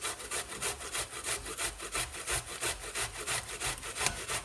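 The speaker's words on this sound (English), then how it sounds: "So I've got a nice inch of ginger, which I'm going to grate along here with the beetroot" Ginger and beetroot rubbed back and forth over the finer side of a grater in a kitchen, a steady rhythmic rasping of quick repeated strokes, close and fairly loud, with no talking.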